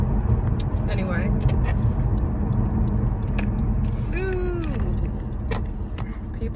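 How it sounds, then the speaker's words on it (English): Cars drive fast along a snowy street, heard as a steady close traffic rumble and tire hiss, with a person talking over it and a brief squeal near the end. "people are driving so fast"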